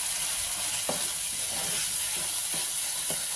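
Chickpea paste gravy being stirred in a pan, a steady frying sizzle with a few sharp spoon scrapes and taps spaced through it.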